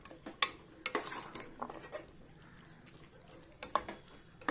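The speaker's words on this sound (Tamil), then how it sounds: "இப்போ பாருங்கள், பீன்ஸை நல்லா சேர்த்து நம்ம ஒரு கிளறிக்கலாம்" Beans with vegetables being stirred in a pan for pattani kurma, with quiet scraping and irregular clinks of a spoon against metal over a faint sizzle, soft and close.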